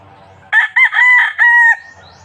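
A three-month-old Sweater Kelso gamefowl rooster crows loudly and close by, one full broken cock-a-doodle-doo call standing alone against near silence.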